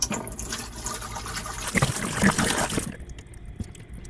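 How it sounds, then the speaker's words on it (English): Water poured into a NorthAir icemaker during cleaning, a steady trickling fill lasting about three seconds, close by, then stopping into near quiet. "let's pour some water down in there"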